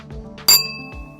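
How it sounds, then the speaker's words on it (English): A metal spoon strikes a wine glass once, giving a bright, clear ring that sustains and slowly fades, close and alone. "If you hit the glass lightly with a spoon, it will ring like a bell at its resonant frequency."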